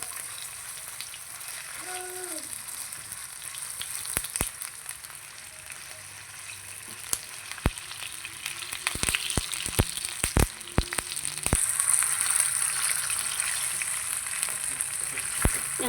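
Onion and ground pork frying together in a pan, a soft steady sizzle punctuated by a burst of sharp spatula scrapes and taps as the mixture is stirred, close and clear.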